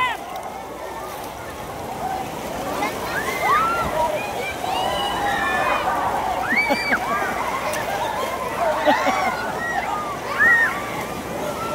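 Water waves slosh and splash at a resort pool in Azure, San Fernando, Pampanga, a steady churning wash running throughout with brief louder surges, while voices and bright shouts carry over it nearby.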